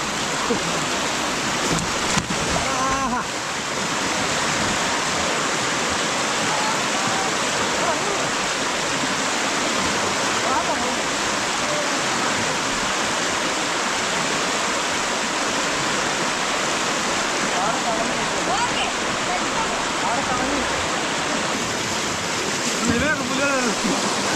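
Rushing floodwater after the season's first rain pours past in a loud, steady roar that fills the whole stretch close by, with only brief faint disturbances near the start.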